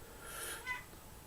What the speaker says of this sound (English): One of my cats wants in.